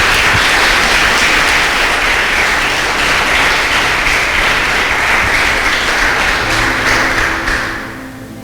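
A church congregation applauds during a sermon, loud dense clapping close and sustained for several seconds before tapering off at the end.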